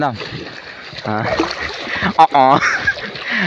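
A person does a backflip into a river and lands with one sharp, close splash near the middle of the moment, while voices chatter and laugh before and after.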